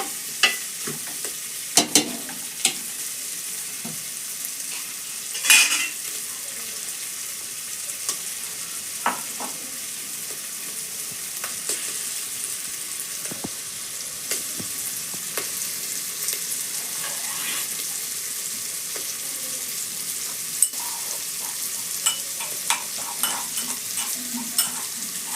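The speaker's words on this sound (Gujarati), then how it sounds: "પછી જો સરસ હલાવી નાખીએ. આમ હળદર ને મીઠું નાખી હળદર બધી સડી જાય." Undhiyu vegetables with turmeric and salt are stirred in a pan over a soft, steady sizzle, with scattered scrapes and knocks of the spoon against the pan throughout.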